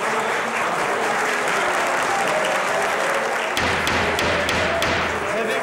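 Courtroom audience applauding loudly during a tense trial hearing, a dense steady patter of many hands clapping throughout, with a few sharper taps and thuds near the end.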